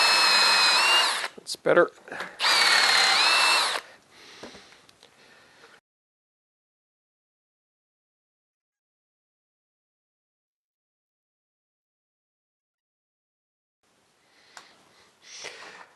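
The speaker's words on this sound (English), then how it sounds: "Speed that drill up a little bit." A power drill bores holes in wood while a dog bed is being built: two loud bursts of whirring, then quieter fading work noise and a long silence. Someone speaks briefly.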